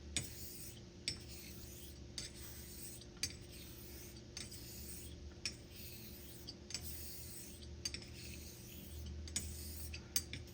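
A straight razor being honed on a fine Nusantara natural whetstone, a soft hiss of strokes back and forth with regular small clicks at each turn, close and quiet, with no talking.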